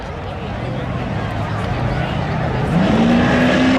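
A Corvette and a Camaro launch side by side in a spectator drag race at Seekonk Speedway, engines roaring loudly and building as they pull away, with an announcer talking over the noise.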